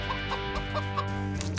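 Wild chickens cluck in a short series of five or six close, distinct calls over a steady low outdoor hum, with no voices.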